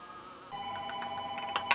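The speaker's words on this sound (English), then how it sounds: "let me get the phone" A telephone rings indoors in a workshop: a sustained tone sets in partway through, overlaid with several short, bright chirps in quick succession, moderately loud, with no talk.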